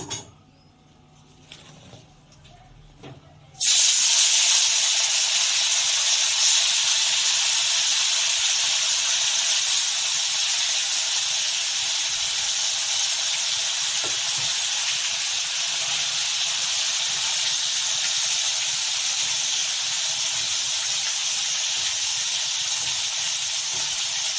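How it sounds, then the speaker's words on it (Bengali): Amudi fish laid into hot oil: after a few quiet seconds of faint handling, a sudden loud sizzling hiss erupts and holds steady and intense for the remaining twenty seconds, close and uninterrupted. "তেলটা গরম হয়ে গেছে আমার, ভালো করে মাছটা একটা একটা করে ছেড়ে দেবো আর ভালো করে ভাজবো।"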